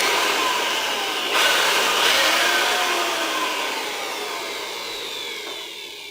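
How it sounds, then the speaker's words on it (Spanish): A Black & Decker blower with adjustable speed blows a steady, loud rush of air onto a PC power supply fan that was noisy or had stopped. The whoosh holds throughout and eases slightly toward the end, with no talking. "podés utilizar este soplador, Black & Decker"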